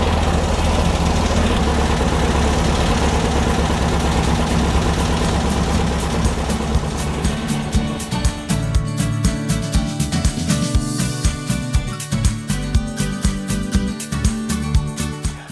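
A Beck 550 Spyder replica's engine idles steadily after its carburetors are tuned and balanced, a dense continuous rumble giving way to a loping, evenly pulsing beat, close and fairly loud.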